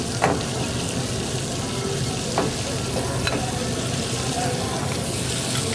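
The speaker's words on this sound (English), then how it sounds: "we're going to saute up the rest of the shrimp." Medium shrimp with tails removed sauté in oil in a hot pan, giving a continuous close sizzle with occasional stirring clicks and scrapes scattered through it.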